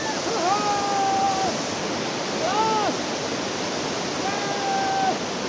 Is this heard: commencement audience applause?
no